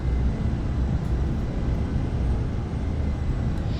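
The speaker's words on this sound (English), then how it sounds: "Come on, Airbus. Accelerate a little." Airbus jet engines in a flight simulator hum in a steady, loud low rumble during an approach to Lukla, a constant droning tone with no talking over it.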